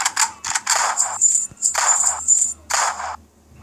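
Short bursts of metallic clicks and clacks from a gun reloading in a mobile game arrive in quick clusters, bright and close, with brief gaps between them.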